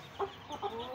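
A few short, soft clucks from a rooster, spaced irregularly against quiet background noise.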